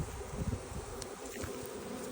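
A honeybee swarm gathered around its queen, fanning and buzzing as a steady, fairly faint drone that continues throughout.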